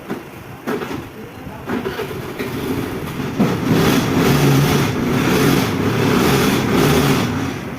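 An EDGE scooter engine starts and settles into a steady running hum that grows slightly louder and holds, close by, with faint talk in the background.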